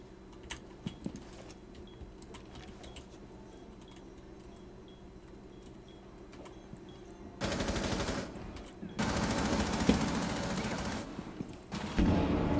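Gunfire erupts in a Rainbow Six Siege round, dense bursts of automatic fire in two loud stretches after a quieter lead-in of faint clicks and keyboard tapping, ending with a final sharp volley.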